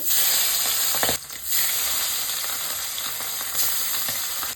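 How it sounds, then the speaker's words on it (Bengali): Remaining pabda fish fry in hot oil with a steady, loud sizzle and crackle, briefly dipping near the start before continuing unbroken. "এই তেলেতেই বাকি মাছগুলোকে ভেজে নেব।"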